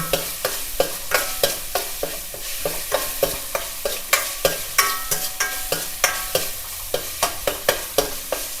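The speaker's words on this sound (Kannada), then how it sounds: "ಸ್ವಲ್ಪ ಹೆಚ್ಚಿಟ್ಕೊಳ್ಳೋಂಥ ಉಳ್ಳಾಗಡ್ಡಿ ಮೆಣಸಿಕಾಯಿಯನ್ನು ಹಾಕ್ಕೊಳ್ಳೋಣ ಹಾಂ ಇದು ಕೂಡ ಫ್ರೈ ಆಗಲಿ" Chopped onion and capsicum fry in a pan over a paste while a spatula stirs them in quick, steady scraping strokes over a continuous close sizzle.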